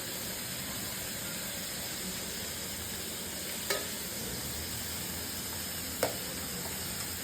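Onions and green chillies frying in a pan, a steady soft sizzle and hiss with two brief clinks of a utensil, no talk.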